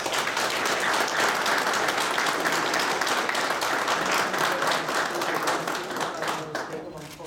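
An audience at a Polish business union ceremony applauds after a man receives a state order, with sustained, dense clapping that stays loud for several seconds before tapering off at the end.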